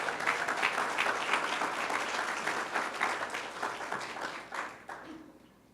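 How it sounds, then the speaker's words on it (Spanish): Church congregation applauding together, a dense, sustained wash of many hands clapping that holds steady for several seconds before tapering off near the end. "dele un aplauso a Cristo con todo su corazón"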